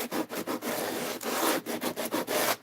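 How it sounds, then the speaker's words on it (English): Rhythmic sanding of wood, repeated rough back-and-forth scraping strokes close by, alone with no talking. "Sorry, you guys, if that sanding bothers you."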